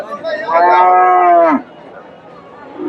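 A Friesian heifer gives one loud, drawn-out moo lasting about a second at a cattle market in Bogura, followed by quieter background murmur.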